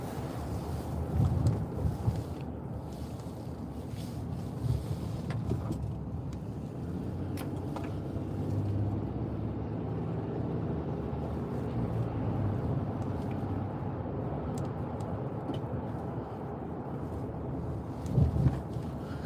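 Inside a moving car on the road, a steady low rumble of tires and engine fills the cabin, with occasional soft knocks and bumps, and no voices heard.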